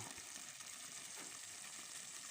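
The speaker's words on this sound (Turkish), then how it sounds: "şimdi bakın ocaktan aldım hala kaynıyor" Faint, steady sizzling and crackling hiss of hot food, continuous and even throughout with no voices.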